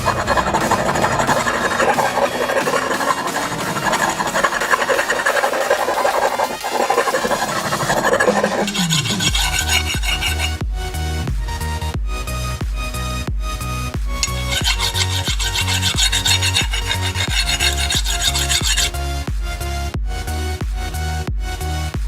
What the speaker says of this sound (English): I'll use this sanding stone, which is also not very fine, and yeah, make it a little bit finer.